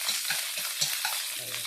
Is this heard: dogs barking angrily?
no